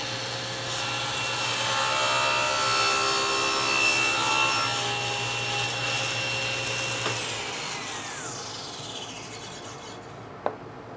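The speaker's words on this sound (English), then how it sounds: "I put my miter sled on the table saw. Let me set the depth of cut and go ahead and cut it." A table saw with a miter sled cutting wood, a steady loud whine through the cut that winds down as the blade slows, ending with a small knock.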